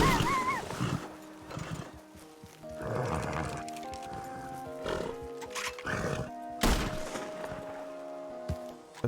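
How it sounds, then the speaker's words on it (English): A silver fox calling in a Red Dead-based WildRP video game: a string of yipping, warbling harmonic cries repeats over several seconds, fairly clear and close, with short pauses between calls. "Is that fox I hear? A coyote I hear? No, it's a silver fox."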